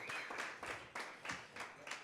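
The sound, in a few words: audience clapping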